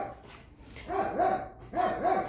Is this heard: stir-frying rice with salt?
no